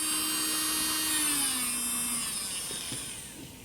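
A high-pitched electric nail file drill whirs steadily at its top speed of 30,000 RPM, a close, continuous whine that winds down slightly toward the end, with no talking.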